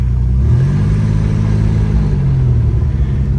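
A 1986 Ford Ranger pickup truck engine runs with a steady low rumble that rises slightly as it revs, loud and close, with no talking.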